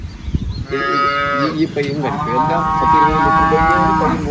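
HF Jersey dairy cows mooing close by, a long loud low call followed by another drawn-out moo, with faint background noise and no clear talk.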